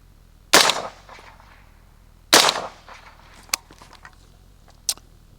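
A rifle fitted with a Griffin Armament HRT 556 3D-printed suppressor fires two sharp, loud shots about two seconds apart, each with a short decaying tail, then lighter metallic clicks.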